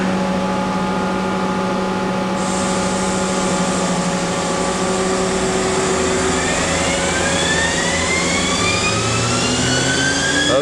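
A Mazak 5-axis machining center spindle spinning up to 12,000 RPM, a loud, steady mechanical whine with tones that climb in pitch as it accelerates, continuous and close with no talking.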